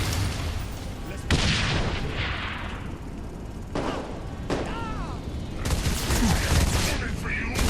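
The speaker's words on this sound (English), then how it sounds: "I could shoot aliens for a while." Saints Row IV alien combat: heavy bursts of gunfire and booming blasts, some in rapid runs and some as lone heavy hits, loud and close, while voices talk over the fighting.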